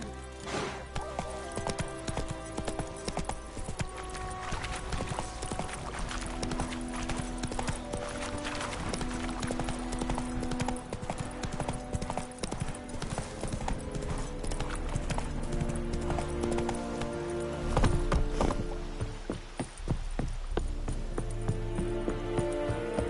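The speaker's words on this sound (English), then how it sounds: "Run, Roach" Horse galloping in the video game The Witcher 3, steady rapid hoofbeats clattering throughout with a brief whinny, under game ambience and occasional speech.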